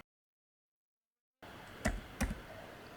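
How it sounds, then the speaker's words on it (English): Two distinct computer keyboard keystrokes click quietly after a stretch of silence, set against a low room hiss, while a word is typed into a spelling quiz game. "Now the last one, I'm typing balloon."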